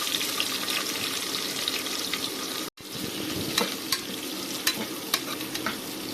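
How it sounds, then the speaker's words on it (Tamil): Cinnamon, cardamom, biryani spices and long-sliced onions tempering in hot oil in a pressure cooker, a loud continuous sizzle with rhythmic stirring scrapes and clicks of a spoon against the pot, briefly cut off midway. "குக்கரில் எண்ணெய் காஞ்சதும் பட்டை, ஏலக்காய், பிரியாணி தாளிப்பு, நீளமாக வெட்டின வெங்காயம் சேர்த்து தாளிச்சுக்கலாம்"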